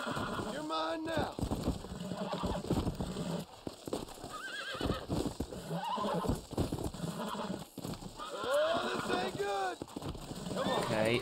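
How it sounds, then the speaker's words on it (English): A horse in the Red Dead Redemption video game neighs and whinnies again and again over quick clip-clop hoofbeats. A voice talks throughout, mixed in with the game sounds. "Take the horse to stable."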